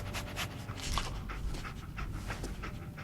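Dogmeat, the companion dog in Fallout, pants steadily and close by, a quick rhythmic huffing that runs throughout with faint whimpery breaths and game ambience beneath.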